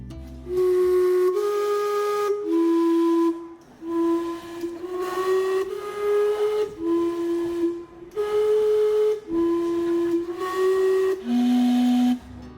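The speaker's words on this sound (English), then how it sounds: "This antique clock was built in 1977 and is steam powered with whistles to tell the time." A steam-powered antique clock built in 1977 sounds its steam whistles in a series of about ten loud, sustained tones of varying pitch, separated by short breaths of hiss.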